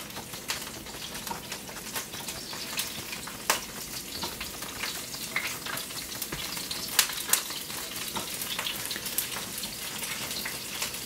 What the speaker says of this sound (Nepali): यसलाई हल्का ब्राउन हुने गरी भुट्छौँ